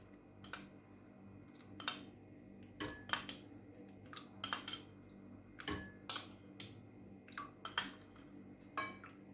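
A metal spoon clinks against a bowl while spoonfuls of milk go into whisked egg and sugar cake batter, with a scattering of sharp, close taps at uneven intervals over a quiet kitchen background.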